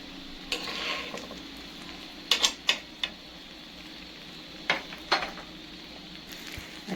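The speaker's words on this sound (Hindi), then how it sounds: "अच्छा तो जी ये अंडा फ्राई हो रहा है" An egg fries in a pan, a faint low sizzle broken by several sharp clicks and taps of a utensil against the pan, close by and quiet, with no talking.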